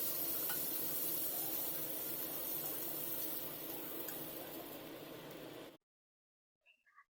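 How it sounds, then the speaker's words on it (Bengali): Cauliflower florets frying in oil in a wok, a dense, continuous sizzle with faint stirring scrapes, fairly close and steady, cutting off sharply to near silence with a few soft clinks after. "ফুলকপিগুলোকে দেখুন খুব ভালো করে ভেজে নিচ্ছি"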